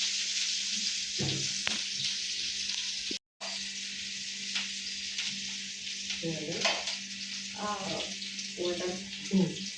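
Carrots fry in a pan with a steady broadband sizzle and occasional stirring scrapes, close by; a voice speaks briefly in the background, and the sound drops out for a moment partway through.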